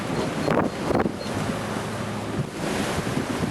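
Gale-force wind roars and large ocean waves surge in the North Channel of the Irish Sea during a rough passage, a loud, continuous rush with heavy gusts, with no talk.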